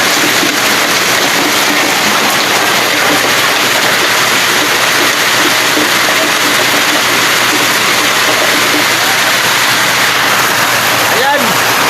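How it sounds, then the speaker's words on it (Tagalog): Heavy rain from Typhoon Uwan pouring down in a dense, loud, continuous hiss, close and steady throughout, with a faint low hum beneath and voices talking briefly over it. "Lakas ang ulan."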